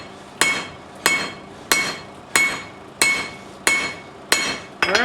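A rounded cobalt hammer strikes hot metal at a forge, ringing out seven sharp, evenly spaced blows about two-thirds of a second apart, each leaving a bright metallic ring that decays before the next hit.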